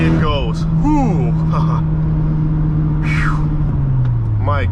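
Turbocharged 2011 Mitsubishi Lancer Evolution GSR engine accelerating from inside the cabin, a steady loud drone whose pitch holds and then drops as the gear changes, with people talking over it.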